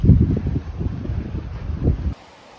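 Strong gusts buffet the microphone at a chilly, wet campsite in North Algonquin, a low blustery rumble for about two seconds before cutting off abruptly.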